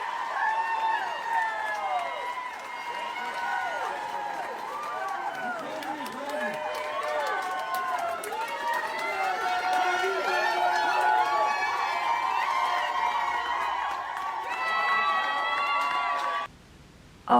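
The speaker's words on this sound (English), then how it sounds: "this other couple that she became friends with leaving the hospital, and everyone's cheering and they're crying" A crowd cheers, whoops and shouts excitedly as a couple leaves a hospital. The cheering stays loud and continuous under overlapping voices, then cuts off abruptly near the end.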